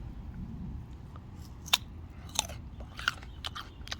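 Crisp bites and crunchy chewing on a raw green Thai mango, a few sharp bite snaps spaced across a few seconds over a low steady background, close and fairly quiet with no talking.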